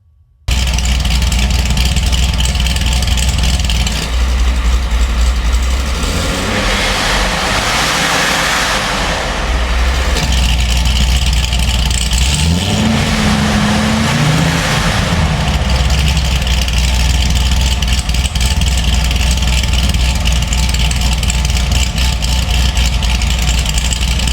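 A Corvette C6 engine cranks and fires up, settling into a loud idle with two rising revs that swell and fall back, steady exhaust rumble throughout.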